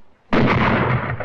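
A shotgun blast at a clay pigeon shoot, a single sharp, loud report that cuts in suddenly and leaves a long rumbling tail behind it.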